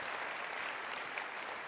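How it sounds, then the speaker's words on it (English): Audience applause fills a family history event hall at RootsTech 2019, a steady dense wash of many hands clapping together, even in loudness throughout and with no voices on top. "you can clap if you want."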